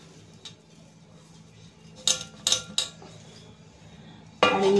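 A spoon scrapes and clinks against a pan as a sesame mixture is stirred into melted jaggery for tilgul vadi, a few sharp metallic knocks over a quiet background, then a louder burst of scraping at the end.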